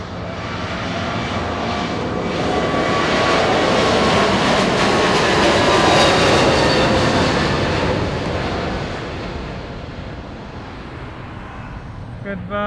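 A fixed-wing airplane taking off from Madeira airport, its broad engine rumble swelling to a peak mid-clip and slowly fading, heard from below the airfield.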